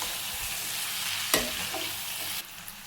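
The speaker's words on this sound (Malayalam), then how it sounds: "ഒന്ന് ഇളക്കി യോജിപ്പിക്കാം." A spoon stirs fried chicken pieces into a sizzling curry base in a hot pan, giving a constant hiss of frying with one sharper scrape partway through, close and clear with no talking.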